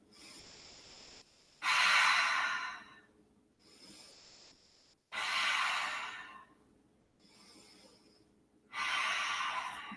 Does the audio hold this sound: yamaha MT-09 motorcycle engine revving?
no